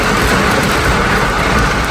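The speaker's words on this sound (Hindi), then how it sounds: "अब ये तेज़ वाली यहाँ पे बारिश हो गई है" Heavy rain pours down steadily during a sudden downpour, a loud dense hiss close by with a faint low rumble underneath and no voices.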